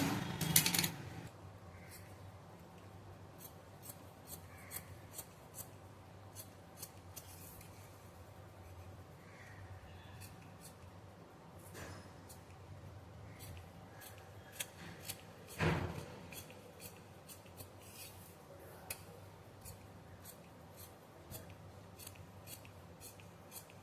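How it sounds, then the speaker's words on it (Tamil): Scissors cut churidar sleeve fabric in a quiet room, with faint intermittent snips and rustles scattered across a long stretch and a couple of louder handling clunks; no voice is heard. "எல்லாத்துலேயும் ஒரு அறுக்கு கொடுத்துக்கோங்க."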